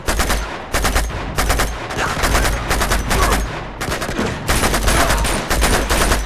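Loud, sustained automatic gunfire in the action game Uncharted 2: Among Thieves, fired in rapid bursts with short pauses between volleys.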